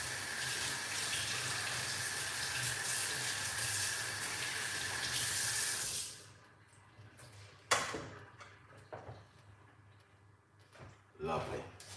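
Water runs steadily into a cup in a kitchen for several seconds, a continuous close splashing pour that stops abruptly, followed by small clinks and handling noises.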